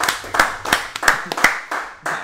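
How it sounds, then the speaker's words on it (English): Scattered claps ring out at a fighting game match, a handful of sharp, separate hand claps in an uneven rhythm, fairly close and with no talk. "Can we get some applause going in for this great-ass match right now?"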